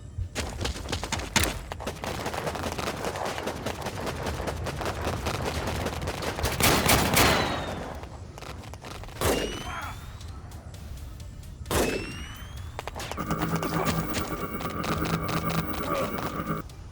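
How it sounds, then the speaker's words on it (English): In the WarPips video game, sniper rifle shots crack out repeatedly over a dense background of battle gunfire, with a few louder, sharper reports standing out close by. "hear that sniper? That sniper. That sniper ain't playing."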